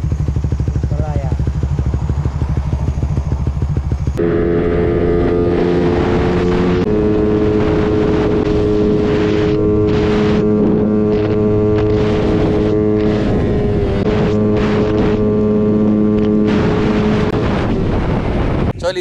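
A motorcycle fitted with a Salaya power pipe on its stock ECU idles, then is revved hard up to the rev limiter, a loud, raspy exhaust howl that stutters and bounces repeatedly, with a voice talking over it.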